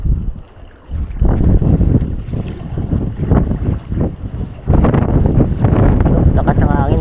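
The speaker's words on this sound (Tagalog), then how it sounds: "Lakas ng hangin guys." Strong wind at a seaside fishing spot buffets the microphone with heavy, roaring low rumbles that surge and ease in gusts, loud and close, while a voice talks intermittently over it.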